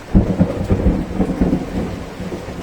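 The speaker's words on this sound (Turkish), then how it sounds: "yağmurun yağması dediğim gibi güzel oldu" Steady rain pours down while low thunder rumbles through it, a dense continuous wash of sound with no voices.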